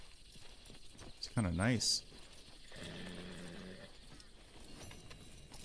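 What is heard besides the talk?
horse hooves walking in video game Red Dead Redemption 2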